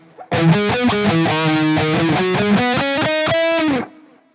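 Distorted electric guitar through the Blackstar St James plugin plays a short run of clear, saturated notes with a delay, loud and alone, ending in a quick fade.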